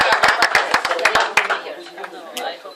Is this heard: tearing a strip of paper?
no